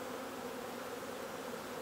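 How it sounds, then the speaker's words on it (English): Asian hornet buzzing close by around a beehive, a steady, continuous drone with no talk. "there's an Asian hornet"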